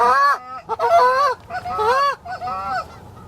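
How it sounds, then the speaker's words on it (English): A farm goose honks during a waterfowl hunt in Iowa, giving a loud, close series of harsh nasal calls in uneven bursts with short gaps between them. "That's a farm goose."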